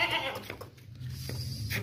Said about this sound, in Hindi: दो दांत बकरी है। एक बकरा है ये वाला और दूसरी बकरी